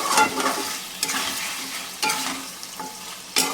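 Methi chicken being stirred in a frying pan, with a steady oily sizzle broken by a few scraping strokes of the spoon against the pan, loud and close, with no talk.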